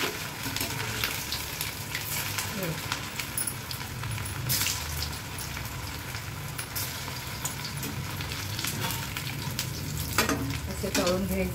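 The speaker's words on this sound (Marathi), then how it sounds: "हे बघा आपण वडे तळून घेऊया." Medu vada made from semolina and potato batter frying in hot oil in a pan, giving a loud, steady sizzle and bubbling throughout with faint clinks.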